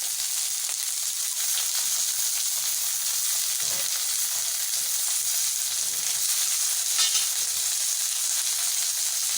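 Mixed vegetables, including capsicum and red tomato, sauté in a pan for veg noodles, giving a steady close sizzle and hiss throughout, with a few faint stirring scrapes and no talking.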